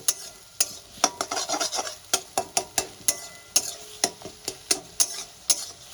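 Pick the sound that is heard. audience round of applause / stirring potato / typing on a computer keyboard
stirring potato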